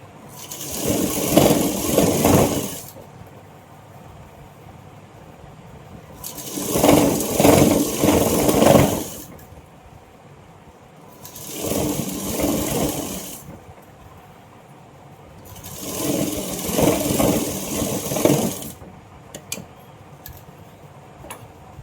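A sewing machine stitching a Patiala pant, running in four bursts of about three seconds each with pauses between, a close, loud whirring of the motor and rapid needle ticking.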